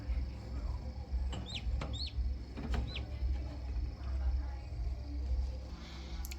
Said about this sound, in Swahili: vifaranga wameanza kutoka.